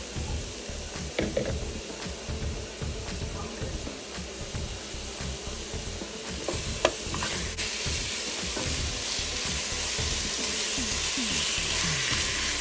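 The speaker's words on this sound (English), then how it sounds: "Now I am going to add a beef shank." Beef shank sears in a hot pot for a Vietnamese beef stew, giving a steady, fairly loud sizzle and frying hiss, with occasional scrapes and clinks of a utensil, no talk.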